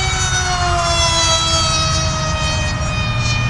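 An RC MIG-X1 model jet at full throttle gives a loud, steady high-pitched turbine whine with strong harmonic tones, sustained and unbroken throughout.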